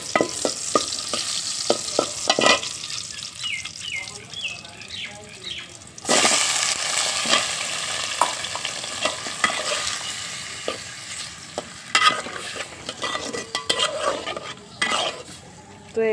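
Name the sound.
onions and green chilies frying in oil, stirred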